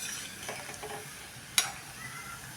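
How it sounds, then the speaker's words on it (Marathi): Semolina shankarpali deep-frying in hot oil while being stirred constantly, a soft continuous sizzle with faint scraping and one sharp metallic clink partway through. "अशा सतत हलवून आपण ह्या तळून काढूया"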